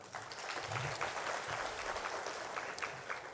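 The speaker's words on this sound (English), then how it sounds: "And to SAARMSTE, please, can we applaud SAARMSTE" Conference audience at the SAARMSTE education gathering applauding, a continuous patter of clapping at moderate distance, fairly quiet, with faint voices murmuring underneath.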